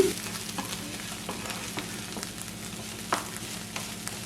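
Shredded cabbage and egg stir fry in a pan, a soft steady sizzle broken by regular scraping strokes of the stirring spoon, close and fairly quiet, with no voices.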